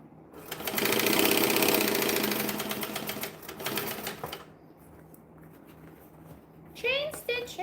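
A sewing machine chain-stitches a bag in one long, fast, loud whirring run lasting several seconds. Softer handling noises follow, and a voice sings briefly near the end.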